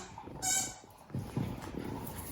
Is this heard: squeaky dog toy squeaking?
yes